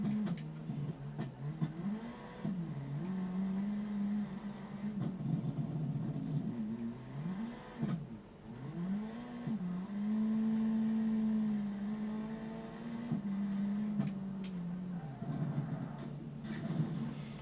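A race car engine in the video game BeamNG.drive drones and revs, pitch climbing and dropping as gears shift and the car accelerates, loud and continuous throughout.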